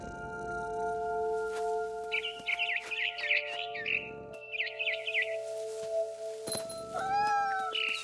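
A cat in the game What Remains of Edith Finch meows and chirps in short bursts, with a bird's chirping call near the end, all over a steady tonal music drone.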